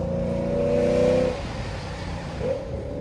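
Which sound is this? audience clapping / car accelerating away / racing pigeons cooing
car accelerating away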